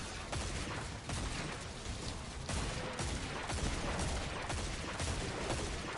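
Rapid bursts of gunfire from a shotgun-style weapon in a video game, dense crackling shots firing continuously and loudly for several seconds, with no talking over them.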